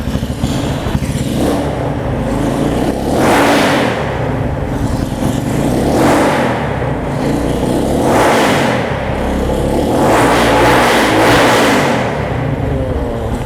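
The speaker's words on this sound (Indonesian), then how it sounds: "Sekarang kita coba gas dulu ya si motor ini ya." A World War II-era motorcycle engine idles with a rough, thumping rumble, then revs up sharply three times in a row, each throttle blip swelling loud and close before settling back.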